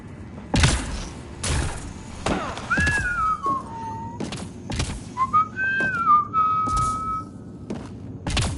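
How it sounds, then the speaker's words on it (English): A character whistles in the video game Mass Effect Andromeda, two short wavering tune phrases heard fairly close, interrupted by loud repeated thuds and clanks from the game scene. "No whistling."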